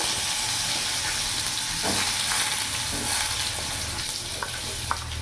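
Diced potatoes sizzle loudly as they fry in oil with tempered spices, a dense, continuous crackle close by with occasional stirring scrapes, for a vegetarian mixed vegetable and paneer dish.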